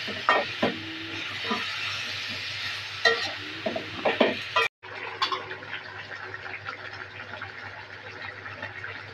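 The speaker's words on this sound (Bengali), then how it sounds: "সুন্দরভাবে কষিয়ে নেব" A small-fish curry is sautéed in a pan, with steady sizzling under repeated scraping stirs. A brief dropout falls partway through, then the frying continues more softly, with no talk over it.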